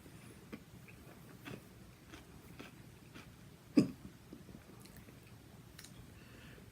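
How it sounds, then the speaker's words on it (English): A man has a single sharp hiccup after eating a jalapeño pepper. It is close and distinct against a quiet room, with faint clicks and mouth noises around it. "And I got the hiccups too."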